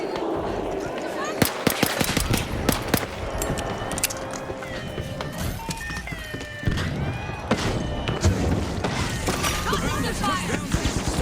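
Gunfire in The Finals crackles in rapid bursts and scattered sharp shots, near and loud, mixed with other game noise and talk.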